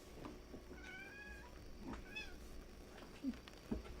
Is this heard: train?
no